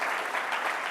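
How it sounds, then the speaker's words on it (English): A business awards audience gives the pitch competition finalists a dense, loud round of applause that fills the room without a break. "let's give them all another huge round of applause"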